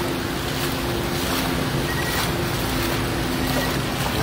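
Floodwater rushes in a strong current through a street in Davao City, a steady, loud broadband roar of churning water with wind buffeting the microphone throughout.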